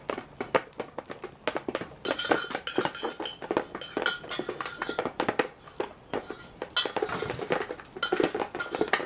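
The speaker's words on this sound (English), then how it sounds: "He scrapes the last of the rice from the saucepan and tosses it down over their heads" A metal spoon scrapes the last cooked rice from a saucepan. Close, quick, irregular clinks and scrapes run almost continuously, with busier bursts, and no one speaks.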